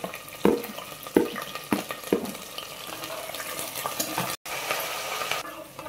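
Green chilies, dried red chilies and curry leaves frying in hot oil for Andhra-style uppudu pindi give a bright crackling sizzle, with several spoon knocks and stirs early on, then a brief dropout before the spatter resumes, no talking.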